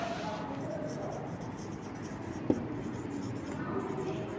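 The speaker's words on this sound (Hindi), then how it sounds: "तो हम लिखते हैं" Chalk or marker scratching across a classroom board during an English grammar lesson, a quick run of soft strokes with a sharp tap midway, while a teacher speaks quietly.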